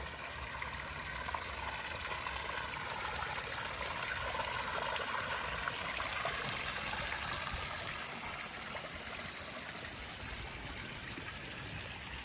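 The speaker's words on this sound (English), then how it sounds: "Listen to this water feature." Running water from a garden water feature trickles and splashes steadily, a continuous close, even flow with no pauses and no voices over it.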